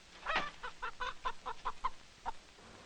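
Chickens clucking in a quick run of about ten short, evenly spaced calls over roughly two seconds, fairly close and clear, with no talking.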